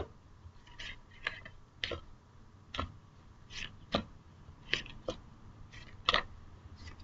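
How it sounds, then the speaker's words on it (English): Tarot cards being shuffled by hand: a sparse run of soft, dry clicks and flicks, each short and quiet, spaced irregularly in an otherwise hushed room. "I'm going to shuffle the cards really good and concentrate here."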